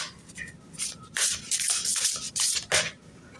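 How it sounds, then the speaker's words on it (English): Oracle cards being shuffled by hand, a run of soft papery riffles and rubbing bursts in uneven rhythm, close and fairly quiet with no talking. "Don't mind my shuffling."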